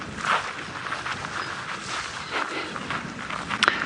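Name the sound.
footsteps crunching grass and sand on a walking safari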